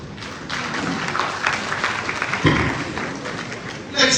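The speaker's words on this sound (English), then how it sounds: "He deserves a loud applause." Audience applause for a speaker at an SLBA elections event, a dense continuous wash of clapping from a crowd, steady and fairly loud throughout with a swell near the end.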